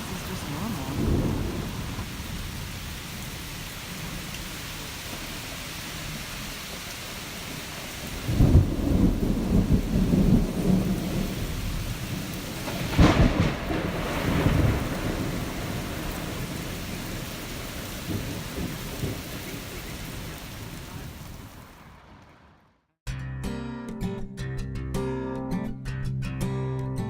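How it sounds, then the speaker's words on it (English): Thunderstorm with steady heavy rain and rolling thunder, loud rumbling bursts swelling over the constant downpour, ending abruptly in a cut to different, music-like sound. "Is this normal? Or is this a bad storm?"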